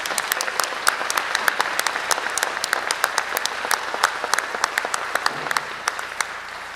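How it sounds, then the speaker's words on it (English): Audience members at a mayoral debate applaud the debaters, with sharp individual claps standing out over a steady round of clapping that thins slightly toward the end. "I'd like to give another round of applause to those debaters."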